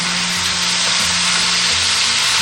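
Duck pieces stir-fry in a wok with salt, chicken bouillon, sugar, light and dark soy sauce and oyster sauce, giving a loud, close, continuous sizzle with a few faint scraping stirs and no talking.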